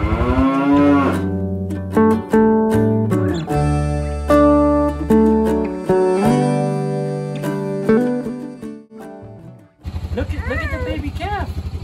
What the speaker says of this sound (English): Look at the baby calf.